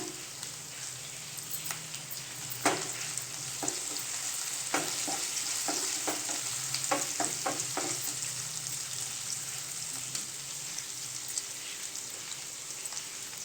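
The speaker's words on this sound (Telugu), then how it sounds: "ఇప్పుడు కళ్యామాకు వేస్తున్నా" Curry leaves sizzle in hot oil while being stirred in a pan for a tangy tamarind stew, a steady crackling hiss punctuated by sharp pops and scraping strokes, fairly quiet and close.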